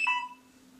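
A single short electronic beep sounds at the start, a bright tone that fades quickly into quiet with a faint steady hum.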